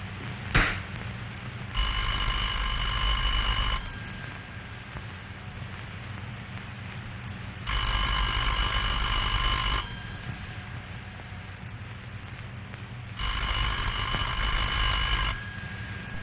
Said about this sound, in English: The party at this number will hear a clear, evenly spaced ring that sounds like this.